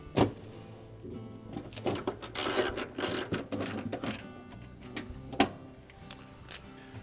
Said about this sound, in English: And then reinstall the 2/4 inch screws.